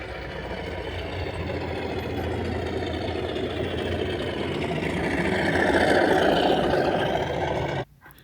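A sound-fitted model railway locomotive plays its engine sound through an onboard speaker on a layout, giving a steady mid-pitched diesel-like drone that grows slightly louder before cutting off abruptly near the end.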